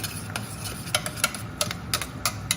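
A utensil stirring olive oil in a bowl in a home kitchen, giving a run of light, regular clicks and scrapes about three times a second, close and fairly crisp, with no talking.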